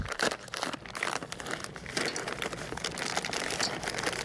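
Two cups of chocolate chips tumbling from a crinkly bag into cookie batter, a close, steady rustle and crunch of plastic with small clicks of chips throughout, no talking.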